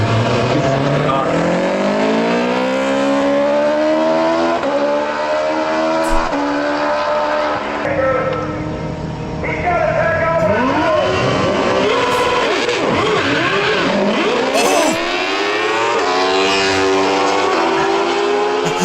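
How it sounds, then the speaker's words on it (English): Small racing golf cart engine at a motorsport event, revving loud and continuous with rising and falling pitch sweeps, dipping briefly as it stalls and then climbing back up as it restarts amid crowd noise. "We have a golf cart racing. Oh! He stalled it. Oh, it wakes up."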